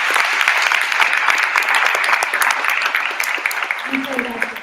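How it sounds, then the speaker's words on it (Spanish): Audience at a film festival talk in Guanajuato applauds steadily and loudly, a dense wash of clapping sustained throughout, with a brief voice rising near the end. "Les pido nuevamente a ustedes un aplauso para ustedes."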